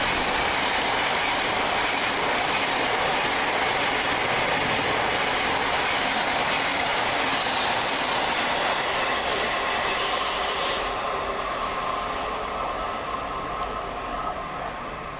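Southern Railway class 455 electric trains pull into Anerley railway station, a steady, loud rush of wheels and motors with rail clatter and high squeal that runs without a break for the whole stretch, with no talking.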